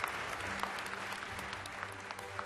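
An audience applauds a Budget and Finance Chair, with dense sustained clapping from a crowd filling the whole stretch at an even level.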